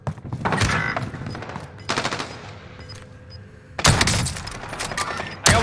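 Loud, dense bursts of gunfire in Warzone rattle in rapid clusters with short pauses between them, including a sharp crack at the end, with no talk over them.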